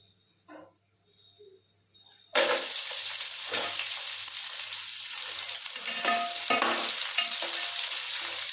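Onions, tomatoes, green chillies and curry leaves hit hot oil with a sudden loud sizzle after a few quiet taps, then keep frying steadily while a spoon stirs nearby.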